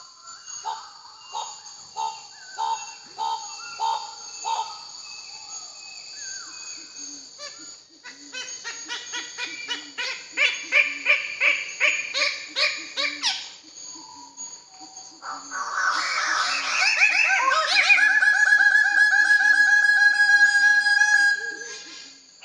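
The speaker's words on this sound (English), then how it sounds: "features a Goldie's bird of paradise performing some stunning vocal displays" A bird gives a long series of loud, varied calls: rapid rhythmic clicking bursts, repeated whistled notes, then a sustained buzzy chattering display.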